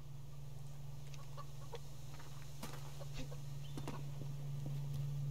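A chicken in the survival game Subsistence clucks in a few short scattered bursts over a steady low hum of game ambience, fairly faint.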